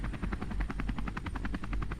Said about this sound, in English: I can still hear the helicopters.